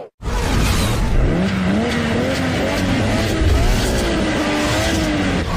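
A car engine revving hard in the Need for Speed Underground street-racing video game, a loud continuous whine that rises and falls in pitch with tire screech mixed in, heard alone with no voices.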